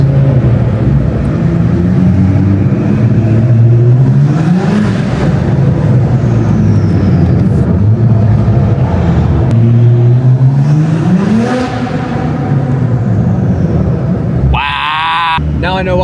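Car engine revving hard at a downtown car meet, loud rising and falling sweeps of acceleration repeated twice, close by, followed by a sharp high burst near the end.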